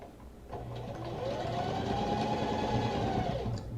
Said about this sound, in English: now I'm going to stitch the panels together